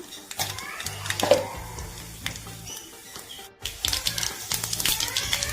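Mustard seeds crackle and splutter in hot coconut oil while tempering for a yam curry, bursts of sharp pops and sizzle scattered throughout, briefly cut off midway before the popping resumes at close range.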